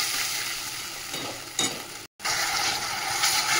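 Tomato and green chilli paste hits a pan of sautéed onion, ginger and garlic, giving a steady loud sizzle and frying hiss with occasional stirring scrapes and a brief dropout midway.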